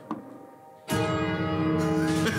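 Bell rung in the co-op video game It Takes Two, snow globe level: a sudden loud resonant strike with long sustained ringing tones that hold steadily to the end.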